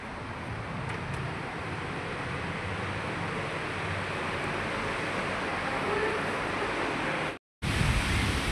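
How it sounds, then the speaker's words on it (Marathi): Sea waves wash steadily onto a clean beach in front of a seaside hotel near Gokarna, a broad continuous roar of surf mixed with wind, fairly loud and unbroken, cutting out briefly near the end. "समोरच समुद्र आहे बघा"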